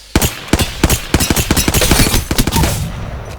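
A heavy weapon firing in Apex Legends, a long-range gun, lets off a loud, close string of rapid shots with uneven spacing over a few seconds, ending in a short tail.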